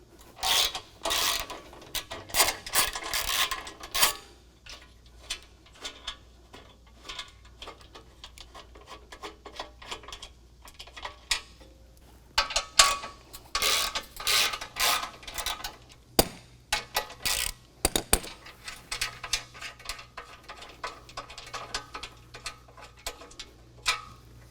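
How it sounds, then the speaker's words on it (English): A ratchet clicks in rapid bursts while loosening the bolts of an inner steel skid plate on a 2022 Jeep Wrangler JL, close by, with pauses and scraping of metal between runs. "Now we're going to remove this inner steel skid plate, and it's just 2 bolts, 1 on each side."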